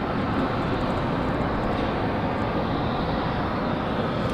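A fixed-wing airliner departs Raleigh-Durham International Airport, its engines producing a steady broadband roar throughout at moderate distance, with no voices present.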